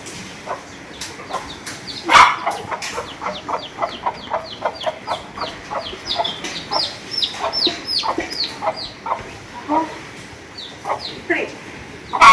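A hen clucks beside a newly hatched chick, with rapid, high, repeated peeping chirps over soft low clucks, close by and continuous.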